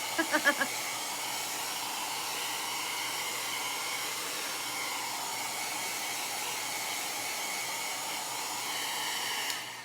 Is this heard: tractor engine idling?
no